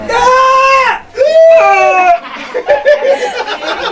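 A goat bleats in several loud, quavering calls in the middle of a comic drama about buying a sacrificial goat for Eid al-Adha, with voices and laughter mixed in between the cries.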